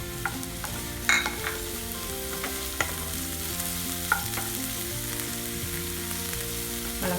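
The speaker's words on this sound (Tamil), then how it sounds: "வெங்காயம் நல்லா வதங்கினதும் நம்ம கட் பண்ணி வச்சுருக்கிற குடமிளகாயும் சேர்த்துக்கலாம்." Onion and capsicum sauté in a pan for egg chilli, giving a steady, continuous sizzle with a few scraping stirs and faint clinks. No one speaks.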